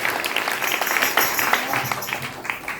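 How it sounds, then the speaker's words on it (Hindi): A church congregation claps for a young girl, scattered, moderately loud applause of uneven claps with some voices mixed in beneath. "ताली बजाएंगे, ताली बजाएंगे बेटी के लिए।"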